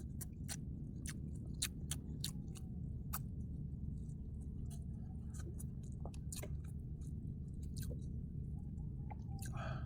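Close-up chewing of crunchy fried food, with repeated sharp crackly bites and wet squishes over a low steady hum, and no talking.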